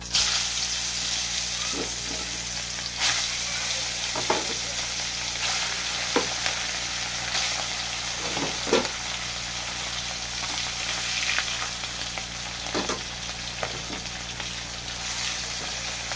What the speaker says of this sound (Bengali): আমি নুন হলুদ মিশানো মাছটাকে এক এক করে দিয়ে দেবো।